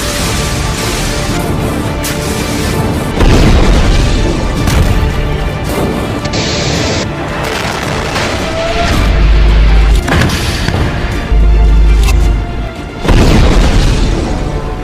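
Repeated loud booming explosions from a Hezbollah attack on Israeli tanks, heavy blasts recurring through the stretch with crashing, rumbling impacts and no speech.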